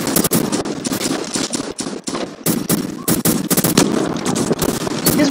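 Gunfire in a food fight video game, rapid repeated shots in dense bursts with brief gaps, loud and continuous over the whole stretch.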